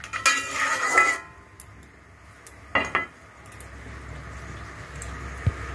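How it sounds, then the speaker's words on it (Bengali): Curry is stirred in a metal cooking pot: a short burst of clattering utensil-on-pot scraping, a quieter stretch, then another brief clink and scrape, heard close with no speech. "আমি একটু ভালো করে নাড়িয়ে দেবো"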